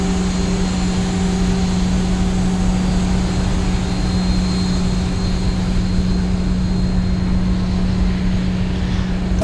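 Airliner engines throttling up at Heathrow in a flight simulator game, a loud, steady drone with a strong low hum and tonal whine holding constant throughout, with no voices.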